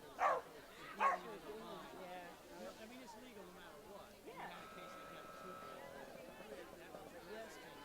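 A Cocker Spaniel barks twice sharply on a dog agility course at an international event, then gives fainter yips and whines under a commentator's voice and crowd noise.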